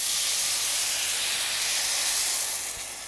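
Stock pours into buttered rice in a hot pan, a steady loud broadband hiss of steam and sizzle that holds throughout and eases slightly at the end.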